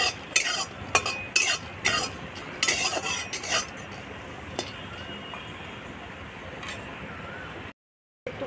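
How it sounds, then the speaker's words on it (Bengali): Dry red chillies roast in a dry pan, stirred with a utensil that scrapes and clinks against the metal in several bright bursts early on, then a steady low rustle, with one brief silent gap near the end. "শুকনো লঙ্কাটা ভেজে নেব প্রথমে।"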